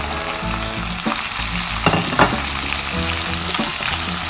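Beef and green chilies stir-fry in a hot pan with a constant, loud sizzle, broken by a few scraping stirs and bright spattering pops.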